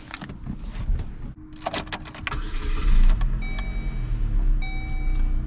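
A Chevy Cavalier car is cranked and started, with clicks and rattles giving way to the engine catching and settling into a close, steady idle, while a power window motor whirs near the end.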